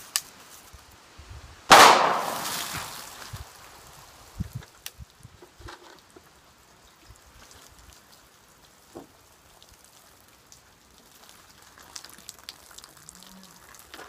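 A Sig Sauer P220 pistol fires a single loud, sharp shot into a row of water bottles outdoors. A quiet stretch follows, with faint scattered ticks and rustles.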